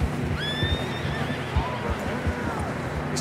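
A horse in the video game Red Dead Redemption 2 lets out a rising, wavering whinny near the start, followed by soft hoof clops and faint rustling.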